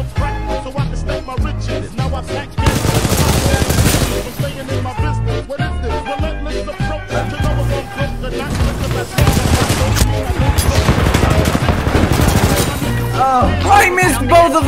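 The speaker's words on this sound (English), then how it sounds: "I missed both of those wingman shots" Rapid gunfire from the Titanfall video game, loud bursts of shots packed together in dense volleys with sharp cracks, including Wingman pistol fire, continuing without pause across the whole stretch.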